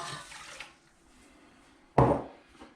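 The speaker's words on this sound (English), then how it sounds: "we're going to add that boiling water" Boiling water is poured into a pot of rice in one short splashing gush, following a softer pour and a moment of quiet.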